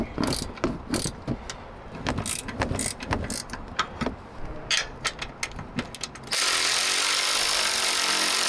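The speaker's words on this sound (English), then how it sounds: "Now we can remove the three top 13mm nuts holding the strut in place." Ratcheting wrench or deep socket loosening the three 13mm top strut nuts on a 2004 Mercury Grand Marquis, heard as a run of quick metallic clicks and rattles up close, ending in a steady loud hiss.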